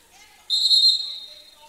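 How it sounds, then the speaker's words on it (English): A referee's whistle shrills once at a college wrestling match between Hofstra and Navy, a loud, bright sustained blast of under a second that fades quickly into a quiet arena. "and now the whistle blows."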